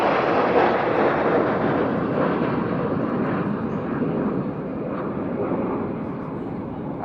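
A Red Arrows display jet, Red 9, passes at an air show at Yeovilton with a steady, loud roar that slowly fades. A commentator can be heard faintly beneath it.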